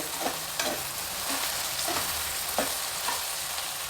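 Field beans (avarekalu) frying in oil in a pan over a high flame, a steady dense sizzle with a few soft stirring scrapes and taps, close and continuous, no voices.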